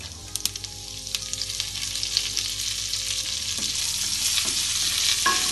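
Asafoetida and curry leaves sizzle in hot oil for tamarind rice, a close, continuous crackling fry with scattered pops and stirring clinks that grow denser toward the end.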